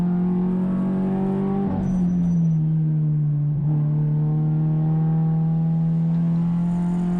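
Race car engine in third gear at Portland International Raceway during a Hoosier Super Tour event, a loud close drone that dips in pitch entering a corner, then holds a steady, strained note.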